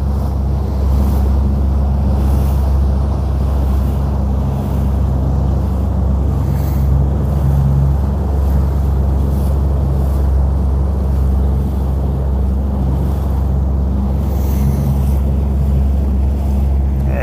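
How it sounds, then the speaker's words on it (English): A powerboat's engine drones low and constant as it passes on the sea off Cornwall near Falmouth, mixed with wind buffeting the microphone and the wash of waves. "Lovely looking boat passing us."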